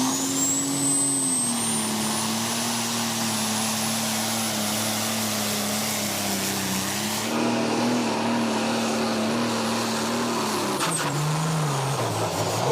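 The Belgian pulling tractor Black Fent of Diesel Ross roars through a pull run at the Knutwil tractor pulling event. Its loud, steady engine holds a sustained drone with a high whine, and the pitch drops near the end as the throttle eases.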